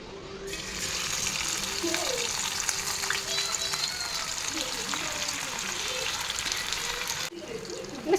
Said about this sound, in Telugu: ఈ ఫ్రైని అయితే ఇక దాంట్లో పెడతాను